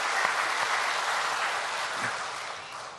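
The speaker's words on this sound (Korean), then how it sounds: "우리 한번 박수 해드립시다." A church congregation at an early-morning revival meeting applauds the piano accompanist, a dense, steady clapping that fills the room and tapers slightly toward the end.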